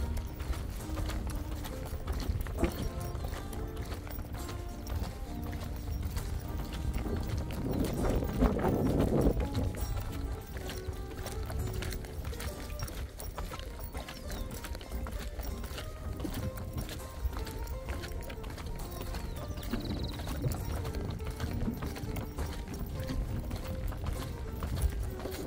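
Hooves of a racehorse being exercised at a training run in the Argentine countryside near Villada, a steady clip-clop beat going on for the whole stretch at moderate loudness, with no one talking.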